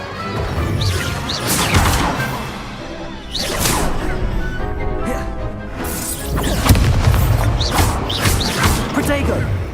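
Stupefy spells cast in Hogwarts Legacy, heard as repeated crashing, whooshing magical impacts that land in bursts about every couple of seconds. A voice shouts over them.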